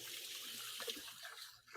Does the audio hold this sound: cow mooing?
no